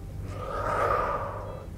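A steady, controlled exhale during a held dance back-bend stretch, a soft breathy rush that swells and fades over about two seconds, close to the microphone with no voice over it.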